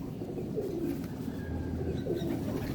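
A pigeon coos softly several times over a low background hum, the throaty calls rising and falling close by.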